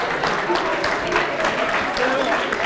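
Audience applause at the closing ceremony of the QA: Challenge Accepted 4.0 conference, a sustained wash of clapping with some voices mixed in at moderate loudness.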